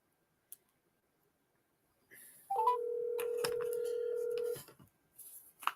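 Telephone line tones during a live phone call: a few quick rising beeps, then one steady, fairly loud tone held for about two seconds before it cuts off, with faint talk nearby.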